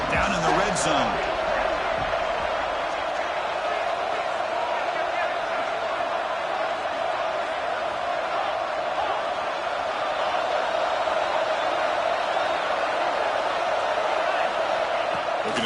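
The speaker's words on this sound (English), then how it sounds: "And the crowd coming to life here, trying to help this defense down in the red zone." Crowd at a college football game against Iowa State rises into a steady, continuous roar filling the stadium while the defense is in the red zone, with no distinct breaks.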